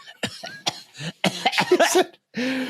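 A voice imitates coughing: several short, rough hacking bursts close to the mic, ending in a longer cough.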